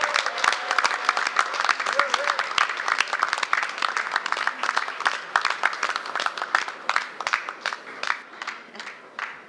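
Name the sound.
audience cheering and applauding at hotel opening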